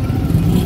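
A car drives through Pakistani city traffic, its engine a steady low rumble heard from inside the vehicle over a short stretch, with a faint voice underneath.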